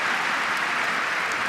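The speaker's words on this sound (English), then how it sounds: "That was an enormous roar." A packed arena crowd roars in a loud, sustained, dense wash of cheering at a World Team Table Tennis Championships semi-final between China and Sweden, with Ma Long facing Mattias Karlsson.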